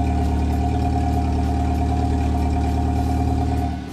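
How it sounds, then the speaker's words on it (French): A car idles outside with a broken exhaust silencer, giving a steady, loud, low rumbling drone like a tractor that holds evenly throughout before easing slightly at the very end. "ça fait un gros bruit de tracteur, vraiment pas beau et pas agréable"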